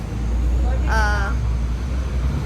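Traffic on Sumulong Highway in Antipolo makes a steady, heavy low rumble of engines, with a brief high tonal call rising over the road noise near the middle.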